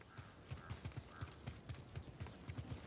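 Horse hooves clip-clopping in a steady walking rhythm at stables in the Star Wars Jedi Survivor video game, quiet and a little distant against low ambient background.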